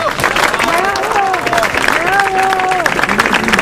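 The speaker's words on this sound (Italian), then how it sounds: "un altro applauso a Giacomo" An audience at an Italian community gathering applauds steadily, a moderately loud wash of clapping under a speaking voice that carries through most of the moment.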